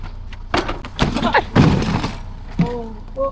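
Something breaks on a table at home during a water-related task: sharp clattering impacts and a brief crash, mixed with excited voices talking around it.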